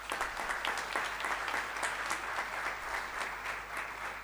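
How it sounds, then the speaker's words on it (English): A large audience claps in welcome for the chief guest at a college conference inauguration, a continuous, fairly distant roar of hands that holds steady throughout with no talking over it. "join us in welcoming our chief guest for today with a huge round of applause"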